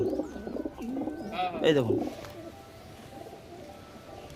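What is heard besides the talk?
pigeons cooing at pigeon sale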